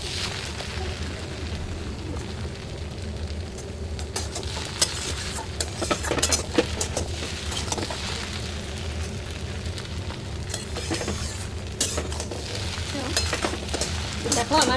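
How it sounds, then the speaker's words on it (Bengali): Chow mein being stirred with tomato sauce in a pan, with steady sizzling and repeated clatter of a utensil scraping and tapping the metal, growing busier partway through. "এটা এবার একটু ভালো করে নেড়ে চেড়ে নেব টমেটো সসটা দিয়ে"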